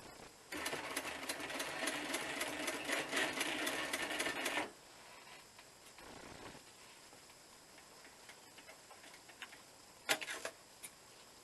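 Sewing machine stitching a bushcraft working vest, a close, fast mechanical run of about four seconds, then quiet handling noises and a couple of sharp clicks, with no talk.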